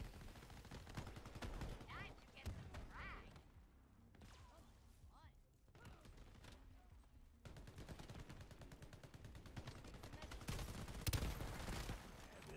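Rapid gunfire rattles through a match of the shooter game Shatterline, with dense bursts, a brief quieter lull, then heavy sustained shooting again.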